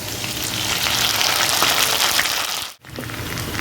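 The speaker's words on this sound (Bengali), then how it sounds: "আলুটা লাল লাল করে ভাজা হয়ে গেছে, এবার জিরে আর আদা বাটাটা দিয়ে দিচ্ছি।" Cumin and ginger paste hits a pan of fried potatoes, a loud continuous sizzle with a brief dip near the end before the frying hiss resumes.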